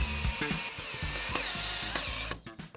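A power driver sinks a galvanised screw into timber framing for a garden solar dehydrator, giving a short burst of ratcheting, whirring pulses close up and then stopping, with no talking.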